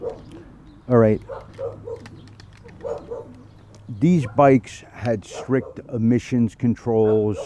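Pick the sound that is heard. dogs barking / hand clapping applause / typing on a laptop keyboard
dogs barking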